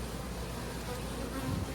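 Honeybees in an open hive recovering from swarming, a dense, even buzzing drone heard up close and fairly soft, steady throughout without talk.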